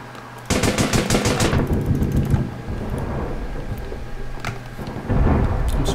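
Rapid bursts of heavy-barrel gunfire in a shooter video game, a loud rattling volley of about a dozen shots followed by a rumbling rolling tail, then another burst starting near the end.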